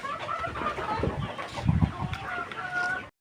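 Several chickens cluck nearby in short, overlapping bursts, a busy close-up flock sound.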